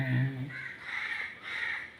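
A crow caws several times in quick succession, fairly close and clear, with a low murmur briefly at the start.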